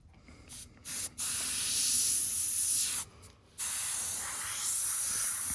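An airbrush spraying paint hisses in sustained bursts, cutting off briefly twice before resuming, with no voices present.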